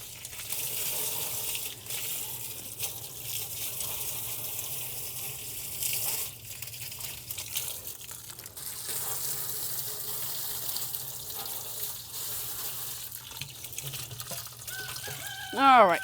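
Water runs steadily from a leaking cheap garden hose outdoors, a faint continuous hiss and trickle under occasional talking.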